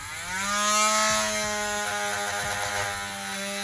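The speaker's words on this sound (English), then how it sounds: "You're going to Dremel" A Dremel rotary tool whines steadily as it cuts into the plastic of a McFarlane action figure, a close, loud high-pitched buzz lasting a few seconds with slight wavering as the bit bites into the material.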